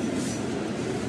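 Metro train in Rome rumbling along the rails, a steady, close rolling roar heard without talk.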